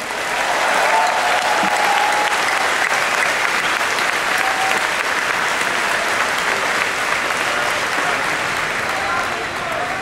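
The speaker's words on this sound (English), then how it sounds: "I'd like you all to give yourselves a huge round of applause." At BlizzCon 2010's opening ceremonies in Anaheim, a large convention audience claps in sustained, dense applause that holds steady for the full length, broad and roomy with no speech over it.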